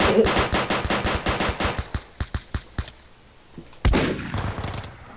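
Rapid automatic gunfire in a modded Minecraft battle, a loud close string of evenly spaced shots that thins out, then a sharp heavy blast followed by more rattling fire.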